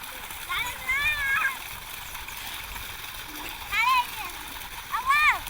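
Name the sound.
child sitting down and splashing in stream water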